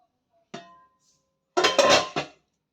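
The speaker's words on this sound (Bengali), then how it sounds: "গামলার মধ্যে এটা বসিয়ে দিচ্ছি ঢাকা চাপা দিয়ে" A pot of khaman dhokla batter set down with a clink inside a preheated larger bowl, then a lid clattered on top, two separate close metallic bursts with no talk.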